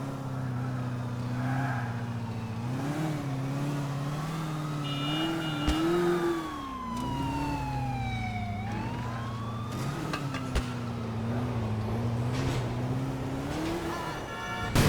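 A sports car engine in a video game revs and accelerates continuously, its pitch rising and falling through gear changes, with a police siren wailing over it for most of the stretch.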